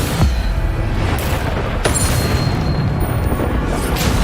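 Spell explosions and blasts in the video game Hogwarts Legacy, a dense, loud barrage of booming impacts and sharp cracks over a continuous rumbling background, with several distinct hits standing out.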